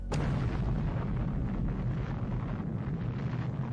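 Distant atomic bomb detonation of the Little Boy type, 15 kilotons, heard as a sudden sharp onset followed by a sustained heavy rumbling roar that continues without letup, loud and alone with no talk.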